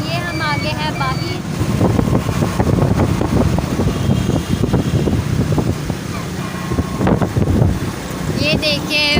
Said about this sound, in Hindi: ये हम लोग बाइक पे बैठे हुए हैं